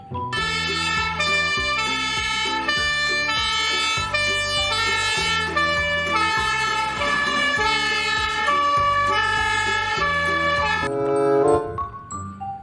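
A loud fire truck siren cycling through a repeating pattern of rising and falling tones, steady for several seconds before cutting off abruptly.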